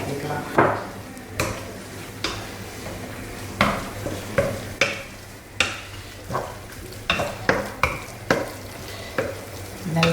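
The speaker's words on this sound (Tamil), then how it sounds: "இது அடுத்தது கொண்டக்கடலை சேர்த்துலாம் ஓரளவுக்கு வதக்கிட்டு" Chickpeas sauté in a pan under repeated stirring, with a spoon scraping and knocking against the pan in a loose, regular rhythm over a soft background sizzle.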